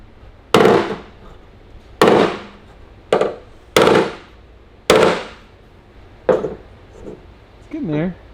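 Loud, sharp hammer blows strike a Ferrari's sheet metal part, seven heavy impacts spaced about a second apart with ringing decay, close and alone.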